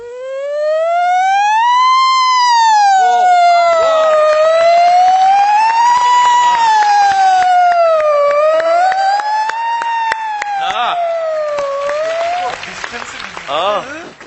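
A human voice mimics an ambulance siren racing past, a loud wailing tone that rises and falls repeatedly, close and continuous, with audience applause and cheering breaking in under it.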